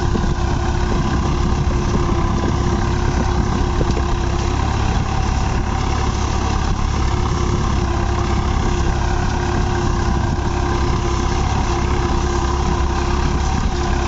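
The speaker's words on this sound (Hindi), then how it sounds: "आपको इसके आरपीएम भी देखते हैं कितने ड्रॉप करता है कितने नहीं करता" A New Holland 3630 4WD tractor engine runs steadily nearby in a continuous low, heavy drone with its revs dropping, with no talking.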